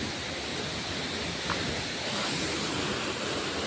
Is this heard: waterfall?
yes